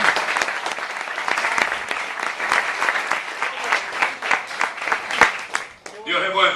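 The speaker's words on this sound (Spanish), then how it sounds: "Denle un fuerte aplauso al Señor" Church congregation applauding loudly and steadily, a dense wash of many hands close by, with a voice speaking over the end as the clapping fades.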